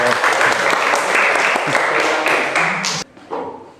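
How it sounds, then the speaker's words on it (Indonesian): A classroom of students applauds a presenting group during a lesson, with dense steady clapping for about three seconds before it stops abruptly, with a few voices mixed in. "beri aplaus untuk kelompok 4 dulu dong"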